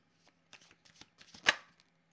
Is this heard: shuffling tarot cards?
yes